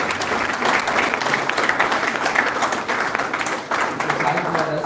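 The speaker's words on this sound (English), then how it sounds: "he deserves a warm welcome from all of us and a big round of applause from all of us." An audience at a college MOU signing event gives the chief guest a warm round of applause. The sustained clapping fills the hall, with a few voices mixed in beneath it.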